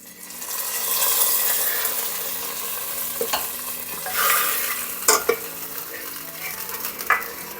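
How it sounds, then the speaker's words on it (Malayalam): Hot curry leaf tempering is poured into kalan, a Kerala yogurt curry, and sizzles in a steady, bright hiss close at hand, with a few clinks of utensils and stirring toward the end. "ഇനി നമ്മൾ നേരത്തെ റെഡിയാക്കി വെച്ചിരിക്കുന്ന നമ്മുടെ കാളനിലേക്ക് ഒഴിക്കുക"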